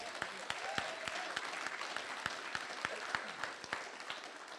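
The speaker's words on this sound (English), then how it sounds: "Can we give her a round of applause?" Audience applause at a live interview event, a steady wash of clapping from a crowd with a few sharper individual claps standing out, moderately loud and continuous throughout.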